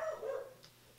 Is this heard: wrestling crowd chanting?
no